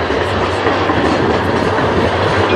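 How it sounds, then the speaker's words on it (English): A tram passing along an Edinburgh street, heard as a loud, steady rail rumble with rhythmic wheel clatter that fills the whole moment, close by and continuous, with no talking over it. "That's the tram."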